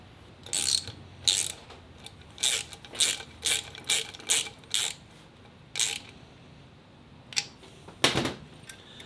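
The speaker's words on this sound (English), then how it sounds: "you grab your Allen key that's provided and your 12 millimeter socket, I believe. And then you just start tightening it down." A ratchet with a 12 mm socket tightens a driving light mount on a 2022 Ram Power Wagon, giving a series of rapid clicking bursts at a steady rhythm, close and crisp, with a few scattered clicks after.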